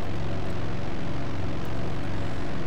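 Propeller warplane engine from the flight simulator IL-2 Sturmovik 1946, a steady, dense drone holding constant throughout without pause, loud and close as if from the cockpit.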